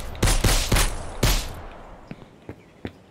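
Gunfire from a melee lock-on video game in development: a quick burst of four heavy, loud shots, followed by several fainter, widely spaced single thuds as the sound dies away.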